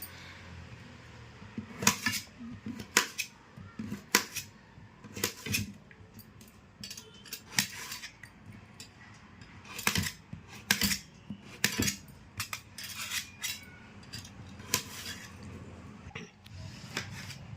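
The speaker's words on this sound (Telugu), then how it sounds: "కాయని మరీ పెద్దది కాకుండా ఇట్లా దీన్ని హాఫ్ చేసుకొని ముక్కలు చేసేసుకుందాము" A knife chops a tender bottle gourd into medium pieces on a board in a home kitchen, a series of sharp close taps and clacks at an uneven rhythm, with no talking.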